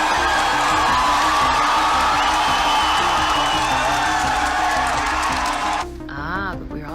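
A large crowd roars continuously with cheering, whoops and shouting, dense and loud throughout, cutting off abruptly near the end.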